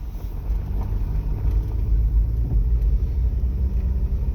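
Road traffic passes near a fire scene in Sydonia, Tennessee, a steady, close low rumble of vehicle engines and tires that holds at an even loudness throughout.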